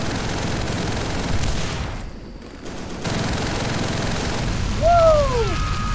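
Covering gunfire in Call of Duty: World at War on Betio Airfield, a dense continuous fusillade of machine-gun fire with booming shots, briefly dipping before resuming, with a whistling sweep near the end.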